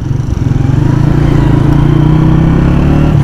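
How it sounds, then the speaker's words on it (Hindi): A 2019 Honda CG125 Special Edition single-cylinder motorcycle engine idling close up, loud and steady with a rapid, even thumping pulse throughout. "आपको दूसरे भी बताते हैं कि मोटर बाइक की आवाज़ डिफरेंट है"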